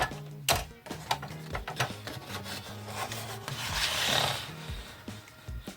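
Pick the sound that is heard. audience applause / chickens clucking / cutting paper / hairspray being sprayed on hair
cutting paper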